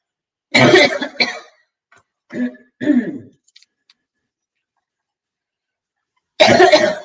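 A few loud, close coughs burst out in a cluster, followed by quieter hacking and a pause of silence, then another strong cough at the end.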